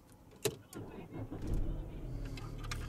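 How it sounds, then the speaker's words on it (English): A car fitted with a smart Wi-Fi relay module starts up: a sharp click as the key goes in, then the engine cranks and settles into a steady, low rumbling idle close by. "insert the key and start the engine."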